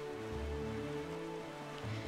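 Rain falls at night in the video game The Legend of Zelda: The Wind Waker, a faint, steady patter over a low, constant background drone.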